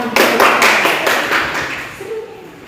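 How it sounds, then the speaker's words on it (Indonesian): Hands clapping in a classroom, a short burst of several claps close by that quickly fades, with no talk over it. "Ya, tepuk tangan."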